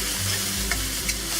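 Beef and sweet chili peppers stir-frying in a hot pan, a loud, steady sizzle with brief tossing scrapes, close and continuous, with no voices.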